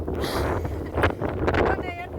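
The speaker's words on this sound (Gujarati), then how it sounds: "હાલો વાવાઝોડા સાથે વરસાદ આવ્યો, પવન ને બધું છે" Strong wind gusting outdoors during a rainstorm, a steady close roar of buffeting across the whole stretch, with a person speaking over it.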